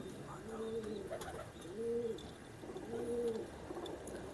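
A Ferozpuri pigeon coos in three soft, rounded phrases spaced a second or so apart, heard close against a low, steady background hum.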